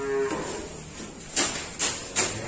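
Cattle at a calf market moo in a faint, short lowing call at the start, followed by three sharper bursts of noise nearby.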